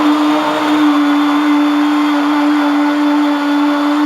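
A blender beating homemade cake batter with sugar gives a loud, steady motor whine that stays even throughout, with no talking.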